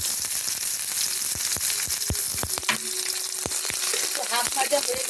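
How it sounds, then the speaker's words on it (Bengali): Chopped onion frying in hot oil in a pan with a bay leaf and a whole dried chilli, for chicken keema: a loud, close, continuous sizzle with frequent sharp stirring clicks. "এবার দিয়ে দেবো পেঁয়াজ কুচানো।"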